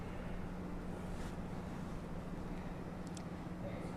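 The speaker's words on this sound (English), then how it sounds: "it's a little windy here, so I couldn't hear what you said" Wind buffets a reporter's microphone during live outdoor hurricane coverage in Orlando, a steady low roaring rumble with no distinct events, fairly faint and continuous.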